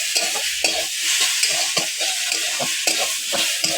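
Cut potatoes stir-fried in a pan, a loud, constant hiss of hot oil with rhythmic spatula scrapes roughly every half second, close by.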